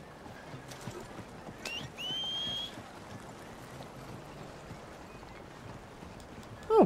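Horse hooves clip-clopping in Red Dead Redemption 2, a soft, steady rhythmic patter under ambient game sound, with a brief whistle-like tone and a short high squeal at the end.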